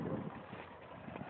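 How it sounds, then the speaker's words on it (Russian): Wind buffets the microphone outdoors at a house construction site where a tractor works, a low rumbling gusty roar that swells and eases over a short stretch, with no talk. "Ветер дует"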